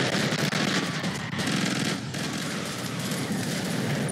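Pistols fire rapidly in the game Killing Floor 2, a dense loud barrage of shots that keeps going almost without pause, with no speech.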